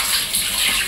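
Water pours steadily from a household tap, a brief continuous hiss with no voices.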